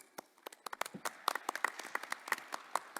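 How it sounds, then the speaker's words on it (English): Scattered clapping from a conference audience welcoming a speaker, a sparse, uneven patter of individual claps rather than a full ovation, fairly quiet and without talk. "with a big applause"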